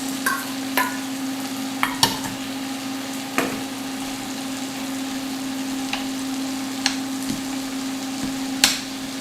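Onions fry in coconut oil in a pan for Jamaican ital ackee, giving a steady low sizzle broken by several sharp utensil taps and scrapes spaced a second or two apart, close and without talk.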